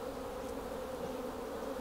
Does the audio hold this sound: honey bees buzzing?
yes